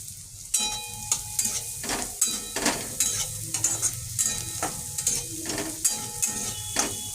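Minced garlic and diced carrot sizzle in a hot pan while a spoon stirs them. The scraping strokes are close and come at a steady, repeated rhythm. No one talks.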